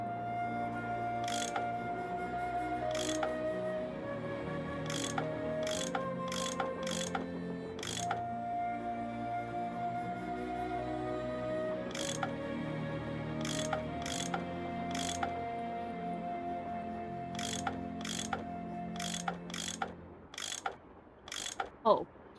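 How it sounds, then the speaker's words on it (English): Bolts being unscrewed with a tool in the Nancy Drew game Last Train to Blue Moon Canyon: repeated bright mechanical ratcheting clicks in short bursts over a steady layer of game music, with a louder clunk near the end. "I bet that's what you use to unscrew these bolts."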